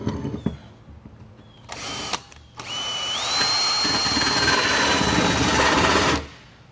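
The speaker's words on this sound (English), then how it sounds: "Okay, ready to drill." A power drill fitted with a big bit bores into a boat, a couple of short bursts first, then a long loud whining run whose pitch rises and holds before cutting off.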